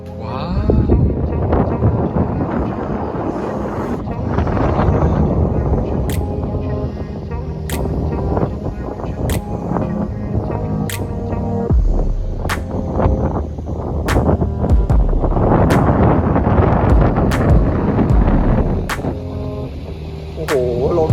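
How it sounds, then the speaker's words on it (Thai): Strong wind buffets the microphone at a mountain viewpoint café, deep gusty rumbles rising and falling in waves, with sharp clicks and bumps scattered through. "โอ้โหลมแรงมาก"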